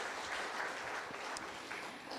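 Audience clapping at a live book concert in Wonju, Korea, a brief, even burst of many hands applauding in a hall at moderate level.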